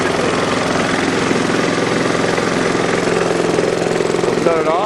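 A Briggs and Stratton small engine runs steadily close by, its loud, even mechanical chugging and hum continuing unbroken for the full stretch without pause.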